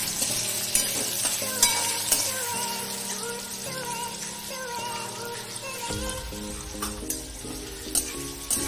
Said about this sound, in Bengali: আলুগুলো নাড়াচাড়া করে খুব ভালো করে ভেজে নেব।